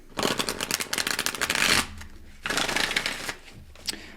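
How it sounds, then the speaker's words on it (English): Tarot cards shuffled by hand in quick riffling bursts, a dense papery flutter followed by a pause and then shorter bursts of shuffling, close and clear with no talk. "I had to slow down my shuffling"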